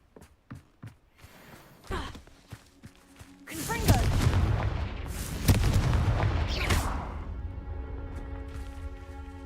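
A Confringo blasting spell explodes in a Hogwarts video game: a few light taps and a short bang, then a loud roaring burst that swells, flares again and fades into rumbling debris.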